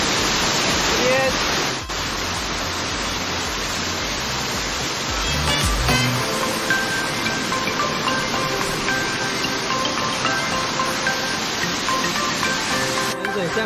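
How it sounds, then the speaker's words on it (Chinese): A waterfall at Lianxin Falls in Yunlin, Taiwan, roars as a steady, loud broadband rush of falling water that fills the whole clip, with a faint voice briefly audible under the noise. "瀑布啊，可以看到彩虹"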